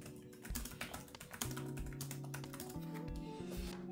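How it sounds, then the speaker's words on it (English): Typing on the keyboard of a Dell XPS laptop, a quick run of close key clicks and taps with a steady rhythm, with faint music-like tones underneath and no talking. "As for a simple typing test, let's see how I do."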